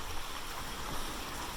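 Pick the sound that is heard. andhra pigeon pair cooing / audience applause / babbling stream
babbling stream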